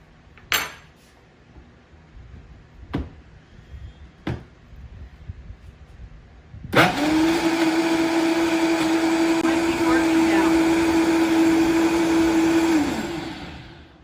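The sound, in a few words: blender mixing ice cream drink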